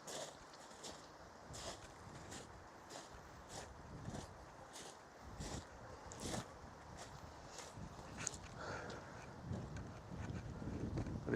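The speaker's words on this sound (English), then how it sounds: "it's quite windy here, which is nice because it's not too hot." Wind gusts across an outdoor construction site during hot weather, a steady broadband rush with intermittent louder buffets striking the microphone throughout, with no talking.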